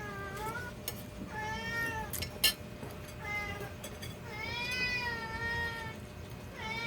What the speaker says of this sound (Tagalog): So, ang ingay po ng pusa namin.